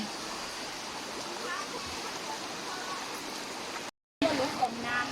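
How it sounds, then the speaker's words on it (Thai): A forest waterfall at Ao Luek in Krabi sends up a steady, close rush of falling water. People talk over it and the sound briefly cuts out near the end. "ธรรมชาติมากเป็นน้ำตกอยู่ในป่าเลย"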